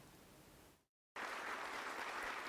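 Enthusiastic cheering and applause from about 118 student officers at the Army College as the defence minister takes the stage; the clapping is dense and steady, cuts out briefly, then comes back louder and fuller.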